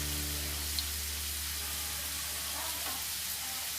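Steady, dense sizzling of taro (gabi) French fries frying in hot oil, constant and close throughout with no pauses.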